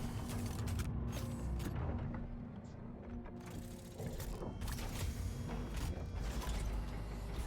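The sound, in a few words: blast door opening on a Starlancer ship in Star Citizen, video game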